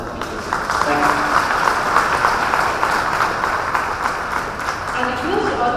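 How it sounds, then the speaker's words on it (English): An audience at a Kakatiya Sandbox dialogue event applauds the speakers with sustained, dense clapping from a crowd, steady and fairly loud throughout, with some voices mixed underneath. "please join me in giving a big round of applause to all the speakers"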